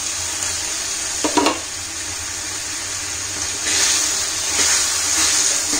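Steamed wheat-and-semolina mini idlis going into hot oil in a heavy-bottomed kadai: a short clatter as they drop in, then a steady hiss of sizzling oil that swells louder toward the end.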